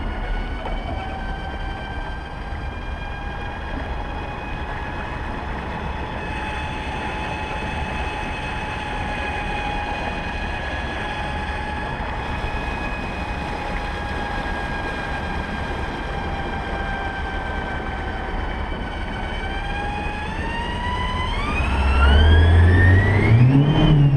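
A small electric speedboat on an acceleration run gives off a steady, high motor whine over a constant rushing bed, then the pitch climbs sharply and the sound grows louder in the last few seconds.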